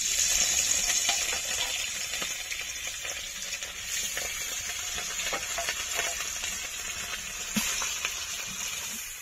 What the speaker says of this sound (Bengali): আর যেই কটা মাছ আছে এই কটাও আমি পরপর ভেজে নেব